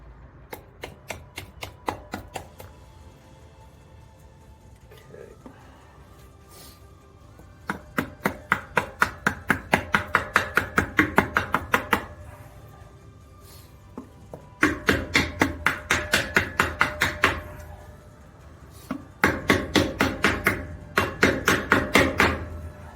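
Rapid bursts of sharp wooden knocks, a hammer striking a wood block to drive in a trailer brake grease seal, in quick runs of a dozen or so blows, separated by short pauses.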